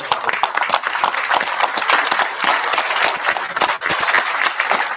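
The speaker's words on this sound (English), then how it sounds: "round of applause" A town hall audience stands and gives loud, dense applause, a close, continuous roar of many clapping hands with a brief dip midway before it swells again.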